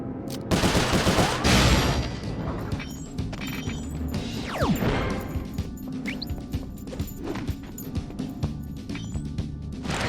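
Gunfire rattles in a Sly Cooper 4 game shootout as scattered shots crack and pop at varying distances. A loud burst comes early, then irregular sharp reports and a whooshing sweep follow over the next several seconds.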